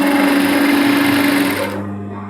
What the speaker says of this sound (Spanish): empezamos a coser, empezamos aquí por el puño